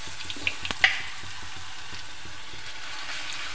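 Garlic paste frying in a little oil for a tomato pickle, giving a steady soft sizzle throughout with a few brief pops and crackles near the start.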